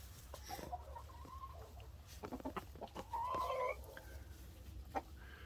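Brahma, Orpington and Americana hens cluck nearby on a farm, with short clucks and a louder drawn-out squawking call midway over steady low background noise.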